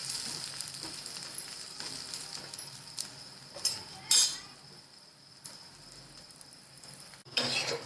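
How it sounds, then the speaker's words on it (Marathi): A bajra flatbread with ghee roasts on a hot griddle, giving a steady close sizzle and crackle, with a few louder scraping clicks as it is flipped. "आणि सुंदर असं भाजून घ्यायचं छान असं पलटून घ्यायचं"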